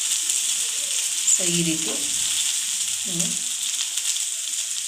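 Okra pieces frying in a pan with ready-mix roast powder, a steady close sizzle throughout while a voice speaks briefly over it.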